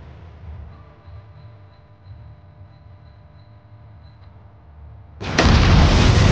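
A bomb goes off at a vault door in the series Fallout: a low rumbling hum and faint tone give way to a sudden loud, sustained explosion blast that fills the final second.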